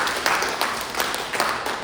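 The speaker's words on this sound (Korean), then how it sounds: "한번 박수 올려드리겠습니다." Applause from a church congregation for the pastor at a Sunday worship service, a moderate, fairly dense patter of many hands with a few louder claps standing out, continuing steadily for a couple of seconds.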